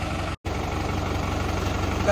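A New Holland 9010 4x4 tractor engine idles steadily close by, a continuous low throbbing drone broken by one brief dropout near the start.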